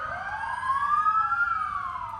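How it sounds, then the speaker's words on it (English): Police and emergency sirens wail, rising and falling in pitch, moderately loud, with a low traffic rumble underneath, as police respond to reported gunfire at Keesler Air Force Base in Biloxi. "You can hear a chorus of sirens grow louder as Biloxi police officers swarm the base."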